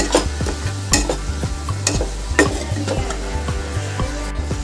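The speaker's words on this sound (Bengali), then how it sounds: "মশলা থেকে যতক্ষণ না তেল ছেড়ে দিচ্ছে ততক্ষণ একটু ভালো করে কষিয়ে নেব।" Masala being stirred and fried in oil for paneer bhurji, a spatula scraping the pan in a steady rhythm of strokes over a constant close sizzle, with no one talking.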